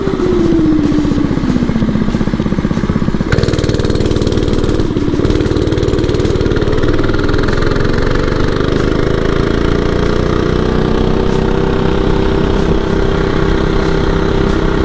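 An oryxearth 105cc minibike runs flat out at top speed, its small engine giving a loud, steady, buzzing drone with a brief pitch dip early on, close up and without talk.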